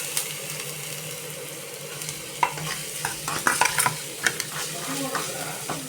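Chopped onions frying in oil in a pan for chicken gravy, a steady sizzle with scraping stirs and clattering utensil taps against the pan, close and clear.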